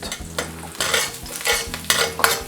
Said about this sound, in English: So the first thing I'm going to add is my ginger and garlic. The aromatics, get that in there, give it a swirl.